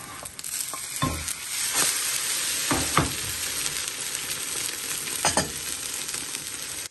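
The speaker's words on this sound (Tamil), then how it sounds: "மூடி போட்டு பொரித்தால் கெதியாக பொரிக்கலாம்." Food sizzles and fries steadily in a pan, a dense close crackle with occasional louder spits and pops, no talking.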